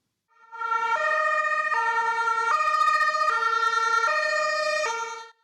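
An orange ambulance on the streets of Zaporizhzhia sounds a two-tone siren, loud and close, alternating high and low notes in an even rhythm for about five seconds before cutting off.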